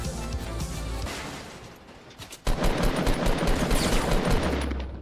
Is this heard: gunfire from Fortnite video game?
yes